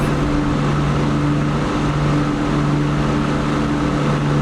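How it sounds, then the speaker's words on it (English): A de Havilland Mosquito's propeller engines in a flight simulator game: a loud, steady roar with a constant low hum, droning continuously without pause. "Oh yeah, this is a really loud airplane."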